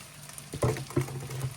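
Loaded fried rice cooks on low heat in a pan seasoned with garlic and onion powder, giving a faint, close sizzle broken by a few soft stirring scrapes and taps.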